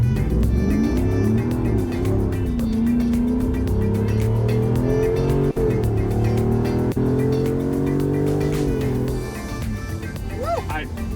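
A 426 Hemi V8 swapped into a Jeep Wrangler idles with a deep, rough, loping rumble close by, and people talk over it.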